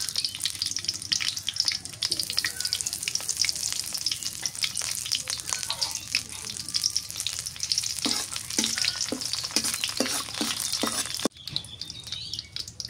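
Whole cumin, bay leaf, cardamom, cloves and cinnamon frying in hot oil on a clay stove, a steady bright sizzle with a run of spoon taps and stirring clinks near the end, faint birds in the background.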